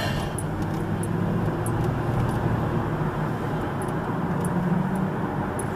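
Steady road traffic rumble heard from inside a moving car, a continuous broadband wash of tyre and engine noise with no clear voices.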